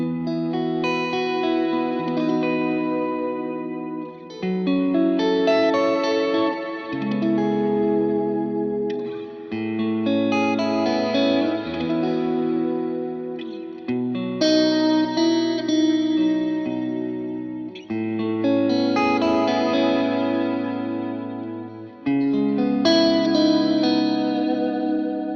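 Electric guitar played through a Helix chorus-and-distortion patch on an HX Stomp, sustained chords and notes ringing out with echoing reverb, no talking.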